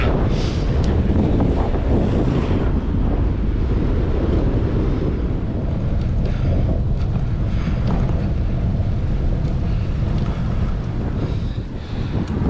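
Loud, constant wind roar buffeting the microphone while cycling along a flat road in a strong headwind, a dense rumbling rush with no talking.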